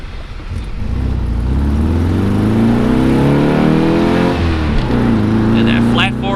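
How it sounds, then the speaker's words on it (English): Volkswagen flat-four engine revving steadily, a loud, close, throaty drone that rises and falls in pitch with throttle, with a slight dip and recovery near the end. "And that flat 4 sound."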